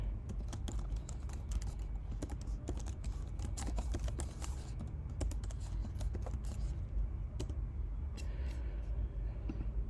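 Typing JavaScript code on a computer keyboard, a quiet, steady patter of key clicks with irregular bursts and short pauses, close up and without talk.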